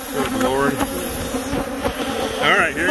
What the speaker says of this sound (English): My god, what a fucking bunch of bees, huh?